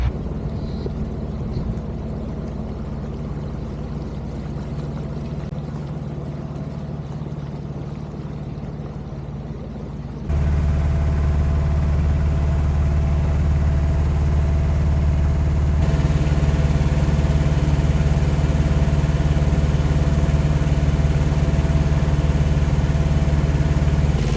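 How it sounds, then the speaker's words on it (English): A sailboat's motor on the Gambia River rumbles at a steady idle, then grows louder and fuller as it settles into continuous running, with no voices over it. "Start the motor up, hold the anchor, and we get going."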